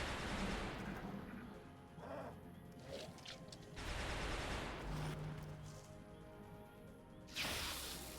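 Gunfire bursts in the turn-based strategy game XCOM Long War, heavy blasts and crashes rising at intervals over a noisy battle backdrop, heard at low volume without talk.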